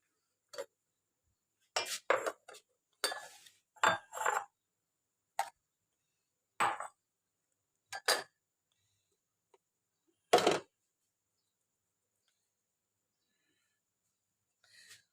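Short clinks and taps of pots and utensils in a home kitchen while tea is made, scattered sharp hits with quiet gaps between them, close by and moderately loud.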